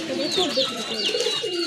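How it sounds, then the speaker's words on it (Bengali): Several local pigeons gathered together coo in overlapping soft, rolling calls close by at a bird market, with faint background voices. "আর এই যে দেখেন সবগুলো কবুতর একসাথে আছে"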